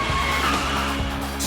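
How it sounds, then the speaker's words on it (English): A sports car braking hard on a test track, its tires squealing and skidding in one loud, sustained screech over engine rumble. "slamming the brakes, and driving downright dangerously"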